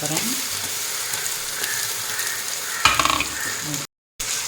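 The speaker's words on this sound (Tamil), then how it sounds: "இஞ்சி பூண்டு நல்லா வெந்துடுச்சு வதங்கிடுச்சு" Ginger garlic paste sizzles steadily in oil in a pan over fried onions for fish biryani, a close, continuous frying hiss with a few spoon scrapes near the end and a brief dropout of silence.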